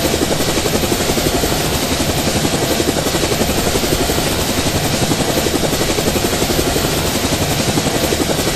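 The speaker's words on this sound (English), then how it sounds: "you can make a movie with your helicopter flying around here" A helicopter flying in the GameGuru Max video game gives a loud, continuous rotor thrum with a fast, even chopping beat that holds steady throughout, with no voices.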